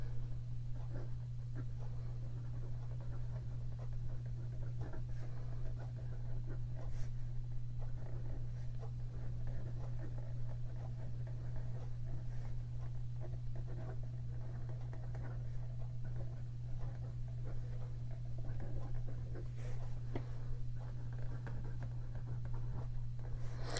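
A Pilot Stella 90s fountain pen with a smooth, slightly springy nib writes on paper, giving soft, faint scratching strokes over a steady low hum, with no talking.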